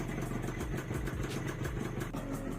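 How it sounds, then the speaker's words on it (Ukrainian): An old Minsk motorcycle engine runs steadily at idle, a close, continuous mid-pitched putter with even firing pulses throughout and no talk. "На щастя, мотор працює добре."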